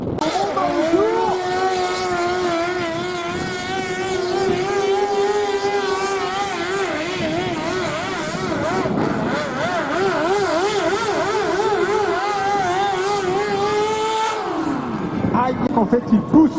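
A powerful pulling tractor engine at a tractor pulling competition in Bernay roars and climbs steadily in pitch for a long stretch, wavering as it strains, then drops off sharply near the end.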